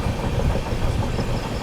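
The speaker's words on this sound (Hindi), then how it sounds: "दोस्तों सामने से आ रही है आप लोगों की न्यू दिल्ली से चलकर तिरुवनंतपुरम की ओर जाने वाली केरला एक्सप्रेस" The Kerala Express passenger train, running from New Delhi toward Thiruvananthapuram, approaches with a low rumbling engine and rhythmic rail noise, steady and fairly close, with no talk.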